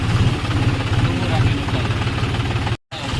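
A tractor engine chugs steadily close by while pulling out of a river after heavy rain, a low rhythmic rumble that cuts out abruptly for a moment near the end.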